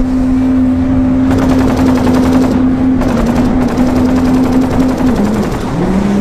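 Video game gunfire rattles steadily and loudly in a dense, continuous barrage, with a sustained engine-like drone running underneath throughout.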